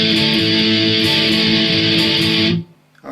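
Distorted electric guitar intro in a fast pop-punk style, loud, dense strummed chords ringing steadily for about two and a half seconds before cutting off abruptly.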